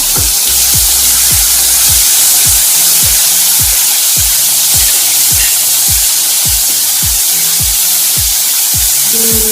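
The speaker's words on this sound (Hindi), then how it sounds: "प्रथमे रसुण अदा पेस्ट नबा।" Garlic ginger paste fries in hot oil with a loud, continuous sizzle close by, broken by a steady run of regular scraping or tapping strokes, with no talking.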